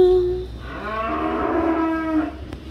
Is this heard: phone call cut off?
no